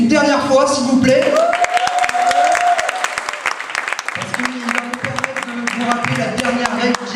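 An audience at a French slam poetry tournament applauds a poet, dense clapping and cheering filling the room throughout while a voice calls out over it.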